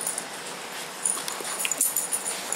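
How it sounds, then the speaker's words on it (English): A dog whimpers softly at close range, a few faint high whines and yips in a quiet indoor room with no talking. "She's a good dog."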